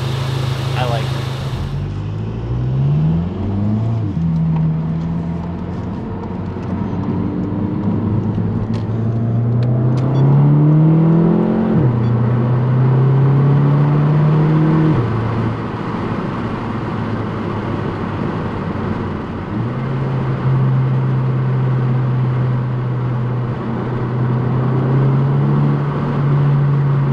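Volkswagen GTI with an AWE Track exhaust and DSG gearbox accelerating hard through several quick upshifts, engine note climbing and dropping in steps, with a couple of exhaust pops; people talk over the drone inside the car.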